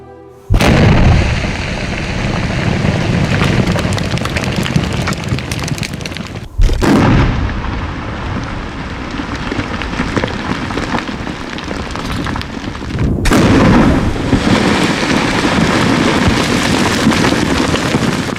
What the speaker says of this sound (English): They are blasting during lunchtime.